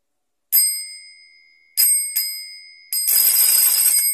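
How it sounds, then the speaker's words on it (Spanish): An electric doorbell, a bell-and-gong type with a solenoid, wired up on an extension lead. It rings in short bright bursts each time its push button is pressed, three brief rings and then a longer sustained ring, loud and close. "¿Y cómo funciona cualquier timbre? Bueno, acá va el pulsador."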